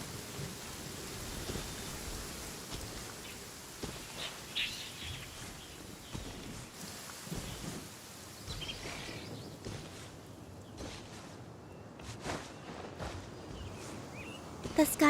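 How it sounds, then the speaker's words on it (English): Rain and rolling thunder in the video game Genshin Impact, a steady patter with low rumbles, under a character speaking calmly. "Taking shelter and listening to the rain cleanse the earth makes me feel safe."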